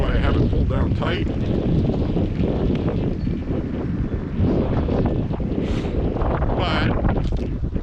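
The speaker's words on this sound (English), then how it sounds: "So we're out here walking on a windy day." Wind buffeting a microphone on a walk outdoors on a windy day, with a constant loud rumble and gusts, while someone talks over it.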